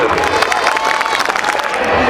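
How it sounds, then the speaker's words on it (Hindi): A loud crowd applauds at a school annual day function to welcome a guest. The dense clapping and cheering stay sustained and close for the whole moment. "एक बार जोरदार ताली बजाकर स्वागत करेंगे।"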